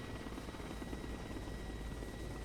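A helicopter in the video game Broken Arrow holds a steady, close rotor thrum with a constant buzzing drone throughout.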